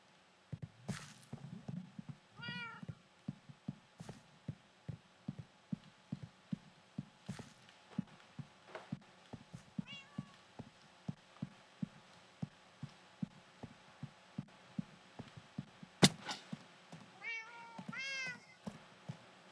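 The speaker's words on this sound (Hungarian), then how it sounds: "És akkor dorombolnak is." Minecraft cats purr in a steady soft pulsing rhythm, with several short meows rising above it now and then, close and quiet, with no talking.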